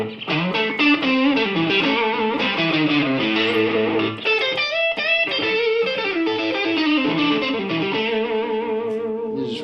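Electric guitar played through an overdrive pedal, an echo pedal and a noise gate, with distorted chords and single-note runs ringing out loud and alone, echoes trailing behind each phrase.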